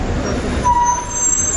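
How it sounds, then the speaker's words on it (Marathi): A Mumbai–Sangameshwar bus pulls in with a soft air-brake hiss and a brief high squeal over a low engine rumble and road noise, heard nearby with no voices. "मुंबई संगमेश्वर गाडी आले."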